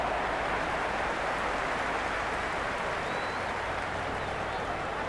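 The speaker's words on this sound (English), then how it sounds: "It's evident and ever so audible that the crowd is at near bursting point at today's play." A cricket stadium crowd cheers and applauds in a dense, steady roar that holds at the same level throughout, loud and continuous with no pauses.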